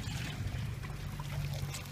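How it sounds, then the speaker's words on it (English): Water from a can poured into a cup, a soft, faint, continuous trickle lasting a couple of seconds close by. "pour it in the cup."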